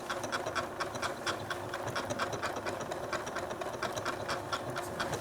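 A sewing machine runs steadily while stitching a quilt label with the presser foot pressure reduced, giving a fast, even mechanical chatter with no pauses.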